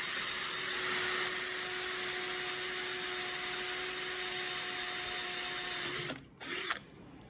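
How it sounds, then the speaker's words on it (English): A power drill with a #30 bit bores through two aluminum shims and a firewall tab on a boot cowl, a steady high-pitched whine running continuously near the mic before stopping abruptly, then a brief second burst. "Then I take my drill, my 30 bit, drill it through."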